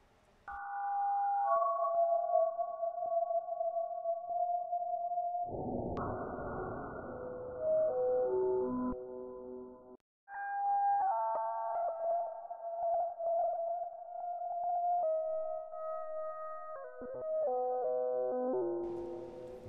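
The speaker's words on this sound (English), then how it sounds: "I used the smear function on Manipulator to try and smooth things out and make it sound a little bit more sci-fi and spacey" Sci-fi, spacey synthesized tones smoothed with a smear effect in Manipulator: sustained, gliding electronic notes with shifting harmonics, a brief dropout near the middle, then more swelling tonal layers, loud and continuous with no speech.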